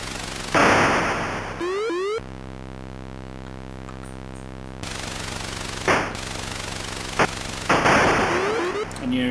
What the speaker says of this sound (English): And your shots, when they hit, cause a bit of an area explosion.